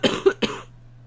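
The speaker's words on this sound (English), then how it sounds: "it's just a cough" A person with asthma gives two short, congested coughs in quick succession, close and fairly soft, with no talking.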